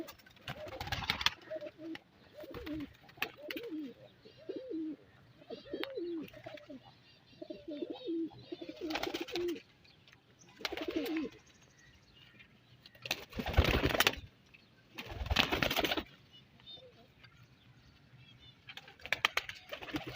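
Teddy breed pigeons coo in repeated soft, throaty bursts, fairly close, with occasional louder rustling and flapping noises breaking in between calls.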